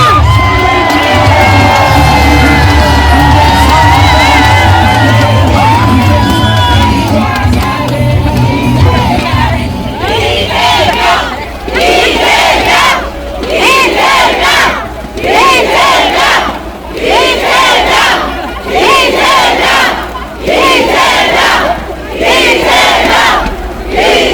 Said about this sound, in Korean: 여러분 다시 한번 큰 박수와 함성 부탁드립니다